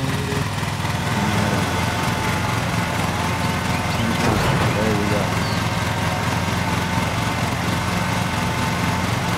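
A lawn mower engine in Lawn Mowing Simulator roars at full throttle, a loud continuous buzzing drone that holds steady throughout, with a brief surge near the middle and a voice talking over it.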